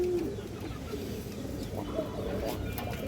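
A Bagha pigeon, a breed of pet pigeon, gives soft, low, rolling coos close by over a constant background murmur.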